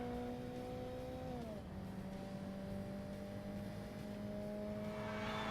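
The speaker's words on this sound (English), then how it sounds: "Oh, rev limiter." A car engine in the Forza Motorsport racing game holds a steady, droning high-rev tone that dips slightly partway through and then carries on evenly, fairly faint throughout.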